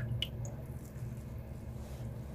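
Soaked bhalla lentil dumplings squeezed by hand to press out oil and water, giving soft, steady wet squishing and faint dripping close by, with no talk.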